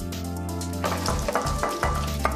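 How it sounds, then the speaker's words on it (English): Cakes sizzle and fry in a pan at home, a steady close crackling hiss with small bursts of popping spitting throughout, heard alone with no talking. "As my cakes sizzle away"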